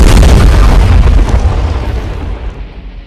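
A bomb detonates in the video game Battlegrounds, a loud, close boom with a heavy low rumble that decays over about three seconds.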